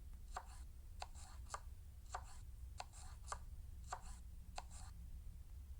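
A knife chops a banana on a cutting board in quick, regular, crisp taps, about a dozen in under six seconds, close and fairly quiet over a low hum.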